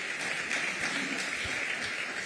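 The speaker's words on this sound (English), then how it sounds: "Another round of applause for Engineer Chia." Applause from an audience at an engineers' workshop on occupational safety and health, a steady broadband wash of clapping that holds at even strength throughout the short stretch, with no voices over it.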